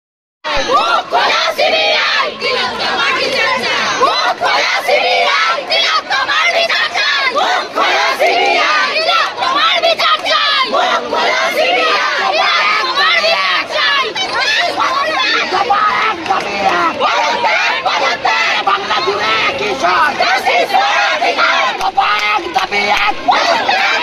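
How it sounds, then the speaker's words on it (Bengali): A dense protest march crowd at a night rally chanting a slogan demanding the chief minister's resignation, a loud continuous roar of many voices with rhythmic shouting throughout. "দেখুন সে ঐতিহাসিক স্লোগান, হাইজ্যাকের দৃশ্য"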